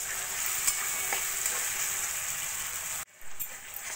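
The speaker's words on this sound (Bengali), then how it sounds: "এইভাবে নাড়া দিয়ে দিয়ে আমি টমেটোগুলো যতক্ষণ না গলে যাচ্ছে ততক্ষণ কষিয়ে নেব।" Tomatoes stirred and fried in a pan for a broccoli dish, a steady close bright sizzle with soft stirring scrapes, briefly cutting out near the end before resuming.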